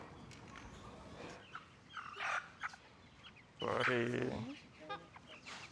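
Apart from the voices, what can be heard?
chicken clucking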